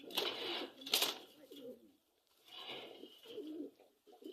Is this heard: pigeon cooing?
yes